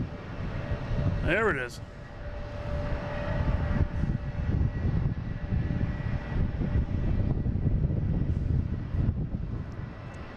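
A fixed-wing airliner's engines rev at Boston Logan International Airport, making a steady, broad roar that rumbles through the whole stretch while a person speaks briefly over it.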